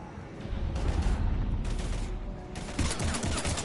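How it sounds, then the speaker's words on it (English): Heavy gunfire in the Mass Effect video game: dense overlapping rifle bursts and booms roll continuously, loud and close, with a brief lull before another intense volley. "We're taking heavy fire"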